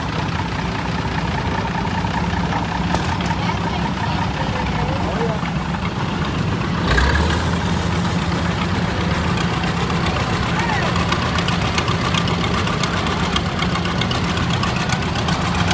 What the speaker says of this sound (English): Pretty sweet tractor.